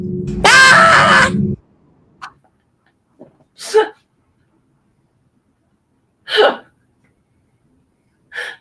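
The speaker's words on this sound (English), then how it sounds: "That scream though." A loud, long scream bursts out at the start, followed by scattered short breathy gasps and voice sounds separated by silence.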